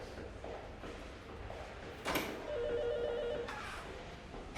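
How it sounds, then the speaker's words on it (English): A telephone rings indoors, a short electronic ring that starts partway through and sits over a quiet room with a soft knock and rustle nearby. "Phone's ringing."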